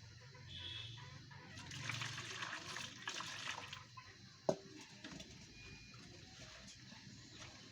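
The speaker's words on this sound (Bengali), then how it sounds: "এখন হলো পাতিলার যে গরম পানিটা আছে এটা ঢেলে দেব।" Hot water poured from a cooking pot over a poultry chicken to loosen its feathers, a quiet continuous splashing pour that swells then tapers, with one sharp knock partway through, heard close and without speech.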